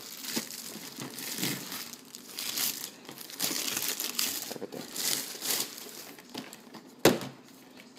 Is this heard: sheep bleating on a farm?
no